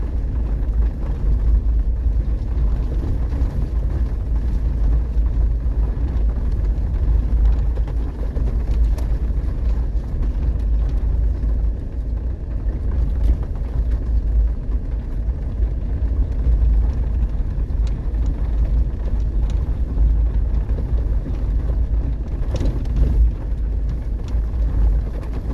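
A car drives out from Friend Ranch on a rockhounding trip, its interior filled with a loud, steady low engine and road rumble that carries on without a break and with no voices.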